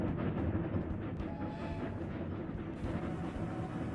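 Trains in the game Railroad Corporation 2, a continuous low rumbling rail roll with faint clatter running steadily throughout, moderately loud and unbroken.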